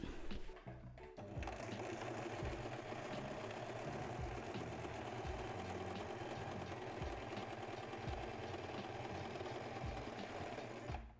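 A sewing machine runs a zigzag stitch on a furry Halloween cushion, giving a steady, close mechanical whir and rattle that continues alone after a brief start.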